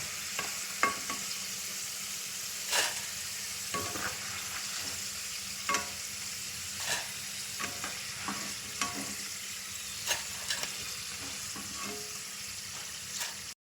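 Steady crackling sizzle of jackfruit pieces deep frying in hot oil, with occasional scrapes and clinks of a stirring utensil; no voices.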